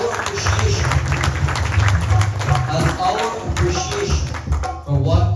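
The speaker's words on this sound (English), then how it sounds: "please give him a big round of applause" Audience applause at a Gita Yagna gathering held in memory of the late parents of the Rambhajan children, a steady dense wash of clapping from a crowd lasting throughout, with some voices mixed in.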